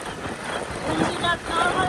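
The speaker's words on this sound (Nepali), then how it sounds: "भिडियो गर्दाखेरि मोबाइलै उडाउला जस्तो भएको छ हावा लागेर" Gusty wind buffets a phone microphone, producing a rough, rumbling roar that swells and dips, with a voice faintly speaking underneath.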